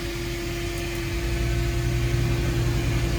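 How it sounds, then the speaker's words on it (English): A steady mechanical hum with a low droning tone from an air conditioner running on a mobile inverter system, settling in and running evenly. "We're going to turn on the air conditioner."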